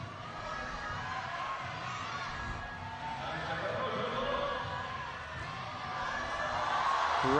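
Crowd cheering and roaring at a women's bouldering semi-final in Keqiao, a steady swell of distant voices that builds toward the end, with a commentator talking over it.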